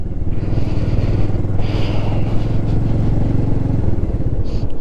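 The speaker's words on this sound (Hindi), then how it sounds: "इधर बाइक चलाना बहुत स्कैरी है।" A motorcycle engine drones steadily up close while the bike rides along a mountain road near the Kalpa Suicide Point in Himachal Pradesh, with a constant low rumble and wind noise.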